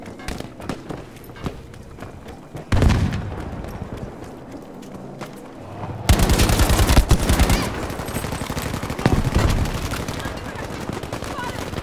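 In a Battlefield V match, bursts of rapid gunfire crackle in loud, dense volleys that swell and fade, with quieter stretches between them and a voice occasionally heard.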